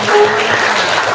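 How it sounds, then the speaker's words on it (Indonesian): Students clap together in a school classroom, a short, dense burst of applause that stays fairly loud and steady throughout. "Iya, bagus sekali, tepuk tangan dong."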